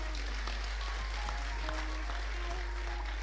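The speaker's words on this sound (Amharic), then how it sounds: "አጨብጭቡ ለጌታ ክብር።" Church congregation applauding, a continuous, moderately distant patter of clapping with some tonal voices or music faintly underneath, beneath a steady low hum.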